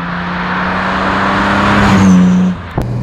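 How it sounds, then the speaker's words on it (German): A 1962 Jaguar E-Type Series 1 3.8 Roadster drives by close, its engine holding a steady, throaty drone that swells louder and then drops off sharply near the end, with no talking. "Richtiger Sound, richtiger kerniger Motor."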